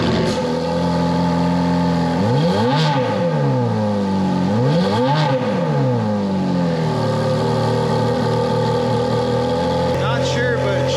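A Ferrari F430 engine with a check engine light on, loud and close, blipped up and down twice in sweeping high-revving rises and falls, then settling into a rough idle.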